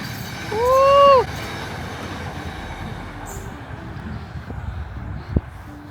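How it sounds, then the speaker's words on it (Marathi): Dutch Sprinter commuter train passing by tracks beside a road in winter: a loud rising wheel squeal or horn-like tone early, then a steady low rumble of the train rolling past at moderate distance. "ट्रेन येते."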